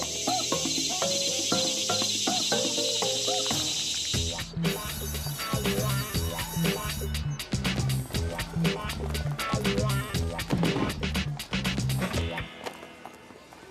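Dense, high chirping of crickets in a TV drama scene fills the first few seconds over busy music and clattering, staying loud throughout.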